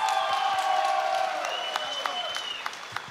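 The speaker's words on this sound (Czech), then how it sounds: "ještě jednou velký potlesk, Ivan Klebec" Crowd applauding and cheering for fighter Ivan Klevets at an RFA 6 combat-sports event in Prievidza, a sustained wash of clapping with whoops and a few sharp claps, steady through the moment and slowly easing.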